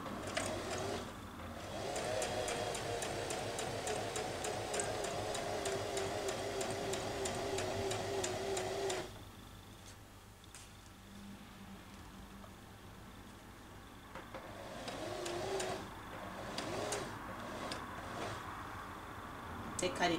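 A sewing machine stitches chiffon fabric along a V neckline, running in a steady motorized whir for several seconds, stopping, then starting again, with a person talking nearby.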